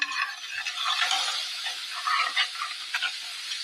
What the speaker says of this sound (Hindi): हमने आटा डाल दिया है और हम धीरे धीरे इसको चला रहे हैं।